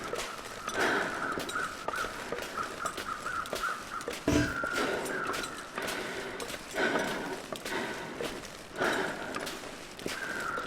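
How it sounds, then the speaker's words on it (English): Crows caw repeatedly in a video game wilderness at the edge of the map, several harsh calls spaced over a steady outdoor ambience with soft footstep-like thuds. "I hear crows nearby."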